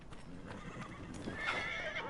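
A horse in the Dragon Age Inquisition video game whinnies briefly, with hoof clip-clops beneath it, over a soft background.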